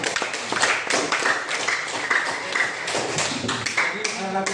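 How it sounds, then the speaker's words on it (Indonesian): A classroom of students applauding everyone, a continuous patter of scattered claps at moderate volume lasting several seconds, with a voice briefly audible near the end. "Saya minta tepuk tangan untuk kalian semua dulu"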